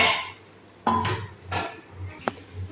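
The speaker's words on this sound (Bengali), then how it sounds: "এবার আমি দিয়ে দিচ্ছি ভেজে রাখা চিংড়ি মাছগুলো" Fried prawns being added to a cooking pot, giving a few clinks and scrapes of utensils against the pot at irregular intervals, fairly quiet, with occasional faint talk.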